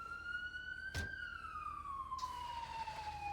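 A police siren wails in the video game GTA 5, its tone rising then slowly falling in one long sweep, heard at moderate distance against a quiet background with a brief thump midway.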